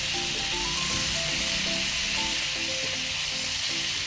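Diced raw potato frying in hot oil for a Bengali prawn head curry (chingri muri ghonto) crackles in a close, continuous sizzle, with faint tonal sounds in the background.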